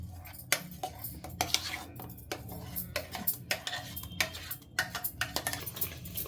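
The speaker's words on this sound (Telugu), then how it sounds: "ఇది బాగా ఉండలు లేకుండా కలుపుకోవాలి" A spoon stirs cream mixed with milk powder for an eggless cake in a bowl, producing repeated close scraping clinks in an uneven rhythm, with no talking.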